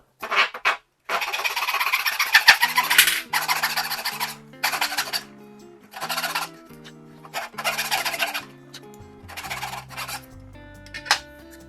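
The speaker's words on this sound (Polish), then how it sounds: "Cięcie grzbietnicą." Rhythmic rasping strokes of a back saw cutting through oak, coming in long bursts with brief pauses, over soft background music.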